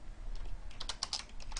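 Quick, close taps on a computer keyboard, a short irregular burst of keystrokes with no voices.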